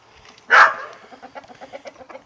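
A loud squawk from a nearby chicken, followed by a run of soft, rhythmic clucking from a flock of Australorps and Silkies.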